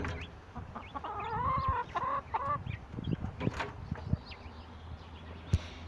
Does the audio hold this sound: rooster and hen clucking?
yes